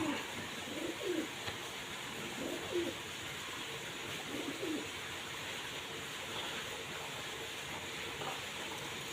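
Pigeons coo in soft, repeated low phrases at a loft, faint and scattered against a steady background hum.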